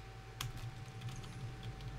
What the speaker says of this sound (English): Oh, I'm typing.